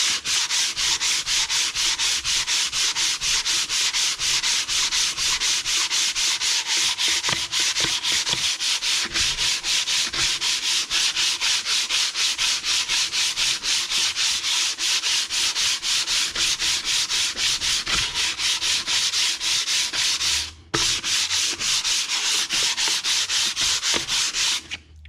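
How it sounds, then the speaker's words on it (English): Sandpaper is rubbed by hand over the ports of a 455 engine being matched to the gasket, giving a continuous fast, rasping scrape for about 25 seconds. One brief pause breaks it near the end, and there is no talk. "run some sandpaper over it"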